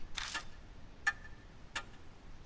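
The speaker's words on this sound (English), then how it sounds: "Silence descends, broken only by ticking." A grandfather clock ticks in the horror game Death Mark: slow, sharp, evenly spaced ticks, about four in a row, fairly quiet and crisp against near-silence, with no voices.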